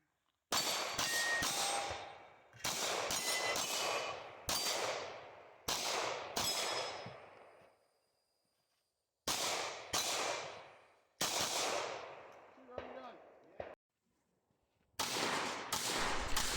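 Gunshots ring out on a shooting competition stage, bursts of loud sharp reports in quick strings separated by pauses of near silence.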